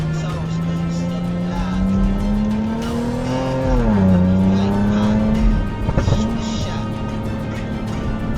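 A BMW swerving in and out of traffic, engine revving with rising and falling pitch as tires squeal and skid, loud and close over steady traffic noise, with talk heard in the background.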